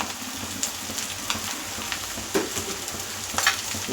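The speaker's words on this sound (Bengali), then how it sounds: "এবার ভালো করে আমি লাল করে ভাজবো" Eggplant, potato and green chilies frying in katla fish oil with onions, giving a continuous bright hissing sizzle with a few light spatula scrapes and taps throughout.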